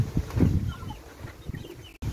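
Backyard chickens cluck in a few soft, scattered bursts close by, with muffled rustling and no talking over them.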